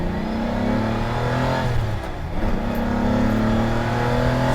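A Lamborghini Countach V12 engine revs hard and steady, its deep note rising and falling as gears shift, loud and close throughout.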